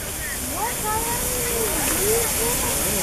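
Steam locomotive SR 34046 Braunton at Preston gives off a steady, broad hiss that fills the whole clip while men chat nearby over it.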